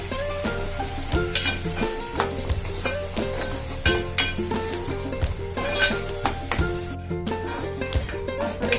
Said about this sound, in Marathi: चांगलं असं हे परतून घेऊया आपण हा तेलामध्ये कारण कच्च वाटण आहे ना हे सगळं तर जरा चांगलं परतून घेऊ